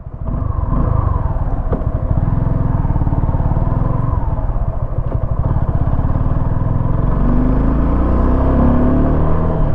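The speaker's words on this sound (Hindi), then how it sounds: "अभी इसका जो एग्जॉस्ट है ना वो पूरा ये दिखाता है, ये सुनाता है कि बिल्कुल स्मूथ इंजन है" A Suzuki V-Strom motorcycle idles steadily close by, its engine and exhaust putting out a continuous low, even rumble that runs loud and unbroken from start to end.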